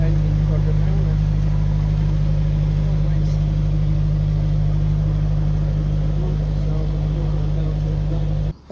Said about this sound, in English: Engine quite good now